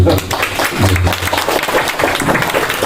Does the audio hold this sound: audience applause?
yes